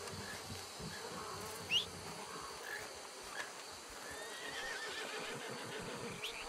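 A horse in Red Dead Redemption II gives a short, fairly close whinny early on, set against a steady outdoor bed of buzzing insects and faint ambient hiss.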